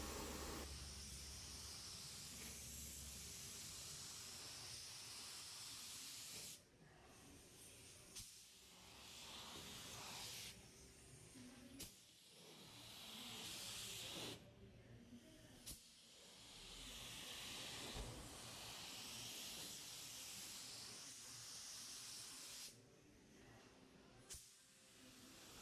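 Spray gun laying a flow coat of paint onto a car body during a DIY dent and paint repair, a steady loud hiss in long sustained passes broken by short pauses between strokes.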